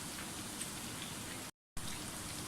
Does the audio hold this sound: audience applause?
no